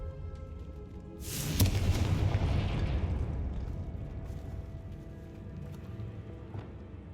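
A Confringo spell blast in the Hogwarts Legacy game sets off one loud explosive boom. A long rumbling roar follows and fades over several seconds.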